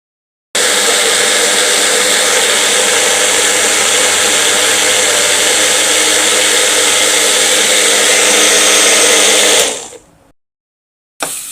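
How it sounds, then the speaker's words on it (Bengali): A blender whirs loud and steady for about nine seconds as it purées boiled bottle gourd skin, then cuts off abruptly into silence. "আমরা এখন ব্লেন্ডার করতে নিয়ে যাব ইনশাল্লাহ।"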